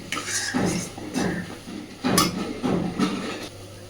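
Egg and potol (pointed gourd) filling stirred continuously in a wok, a spatula scraping and clinking against the metal in repeated strokes about every half second, fairly close with a steady low hum beneath.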